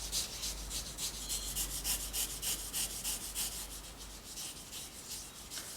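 A brush scrubs paint onto an abstract artwork in quick back-and-forth strokes, making a close, steady scratchy rubbing rhythm that runs the whole time with no voices.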